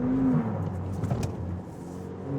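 A sports car engine hums under light throttle as the rear end slides on a test track, with a low rumbling note and a short whine early on, fading slightly toward the end.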